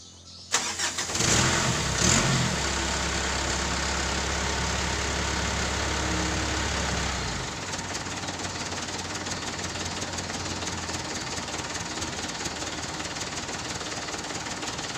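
A car engine cranks and starts, then idles to warm up with a steady low hum and a mechanical rattle, close by, the note easing after several seconds into a quieter idle.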